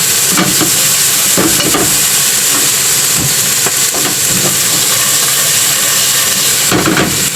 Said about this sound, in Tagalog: Pinagugulong lang ng ganyan sa mantika.